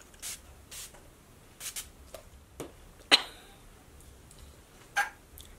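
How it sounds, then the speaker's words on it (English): Several short, soft spritzes of Wet n Wild Matte Finish Setting Spray, spaced irregularly, close to the microphone in a quiet room. "I'm gonna take the Wet n Wild Matte Finish Setting Spray."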